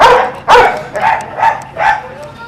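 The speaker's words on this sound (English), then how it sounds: "That's why he barks all the time." Several loud barks close by from a sheriff's search-and-rescue K-9, coming in a quick uneven series.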